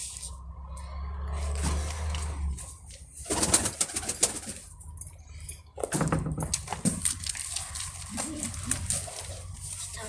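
Pigeons coo repeatedly nearby amid rustling and handling noises, with some fluttering and bird calls scattered through the clip.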